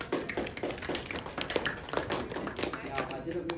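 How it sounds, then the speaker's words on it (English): A classroom of students claps for two classmates, a dense patter of many hands close by that holds steady for a few seconds. "Give them a clap, please, guys."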